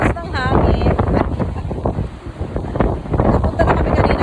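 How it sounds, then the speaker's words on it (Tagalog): Strong wind buffeting the microphone at the beach, with waves beneath, a loud continuous roar with gusting surges and a brief voice near the start. "Super lakas ng hangin."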